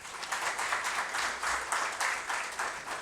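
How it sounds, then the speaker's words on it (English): Conference audience applauding panelists after an inaugural session on infrastructure project management, a steady, moderately loud wash of many hands clapping for about three seconds with no talk over it. "a round of applause."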